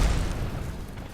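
A rocket explodes in Kerbal Space Program, a short, deep boom that hits at once and fades into a rumble.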